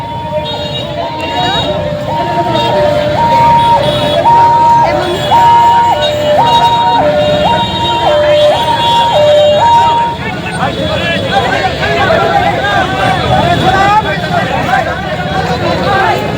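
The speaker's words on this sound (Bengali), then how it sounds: "অ্যাম্বুলেন্সকে যেতে দিন" An ambulance pushes through a protest crowd over a child's kidnapping and murder at Rabindranagar police station, its loud two-tone siren wailing steadily and then shifting pitch, amid dense crowd chatter and shouting voices.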